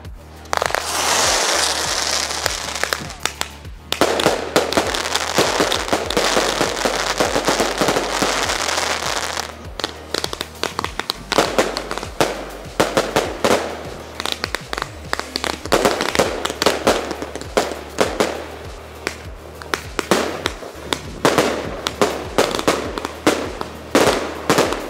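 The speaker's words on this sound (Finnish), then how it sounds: "Tässä on meidän isoin raketti ja nyt vihdoin uuden vuoden kunniaksi ammutaan" A New Year's firework barrage, with the biggest rocket launched and bursting, gives a loud, dense, continuous crackle of rapid pops and bangs lasting many seconds, close and overwhelming.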